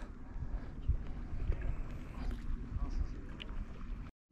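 Wind blows across Coniston Water in the Lake District during a kayak trip, a steady close-up low rumble and buffeting on the microphone with gusty swells, cutting out briefly near the end.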